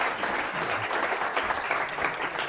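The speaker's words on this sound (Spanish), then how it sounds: "un aplauso para él que viene" Audience applause at an economics lecture, a dense, continuous clapping from a room full of people, steady and fairly close, with no talk over it.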